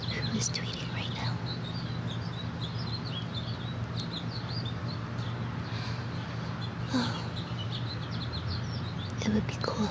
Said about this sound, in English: I have no idea who is tweeting right now.